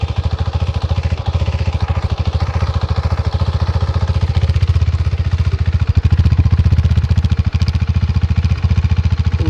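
A KTM 390 Adventure motorcycle idles with a steady, rapid exhaust pulse, loud and close throughout, with a slight swell partway through and no talking.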